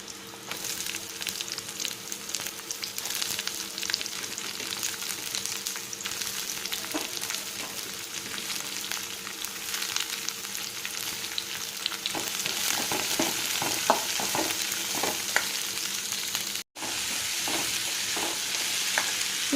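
Onions frying in a pan with soya chunks, a continuous dense sizzle that grows louder and busier partway through, with a few light stirring clicks over the hiss and no voices.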